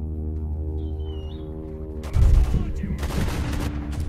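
Gunfire against bandits in STALKER Lost Alpha near Lake Yantar at nightfall: a steady humming drone, then sudden loud shots and bursts of rapid fire breaking in midway and continuing to the end.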